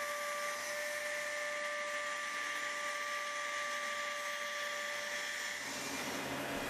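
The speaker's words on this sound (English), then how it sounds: "The traced design is then carved using a small router by a craftsman." Small router carving designs into wooden furniture, a steady high-pitched whine with sustained tones running continuously and close, dropping off near the end, with no talk.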